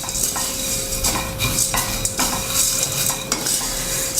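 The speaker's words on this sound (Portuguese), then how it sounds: "Eu vou colocar a proteína de soja aqui, né? E vou fritar ela com os temperos" Dry soy protein frying with herbs and seasonings in a pan, stirred with a utensil that clinks and scrapes against the metal in irregular strokes over a faint, steady sizzle; no talking.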